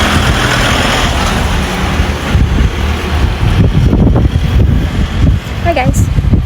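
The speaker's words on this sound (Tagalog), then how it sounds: "So, medyo mahangin pa po" Steady wind buffets the microphone in a continuous low roar, with faint voices and movement mixed in, in cool weather on the way to Riga.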